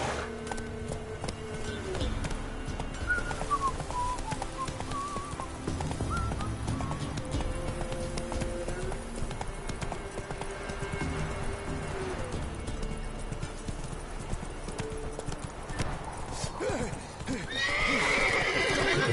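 Horse galloping and neighing in The Witcher 3: Wild Hunt, steady rapid hoofbeats with whinnies over continuous game sound, and voices shouting at times.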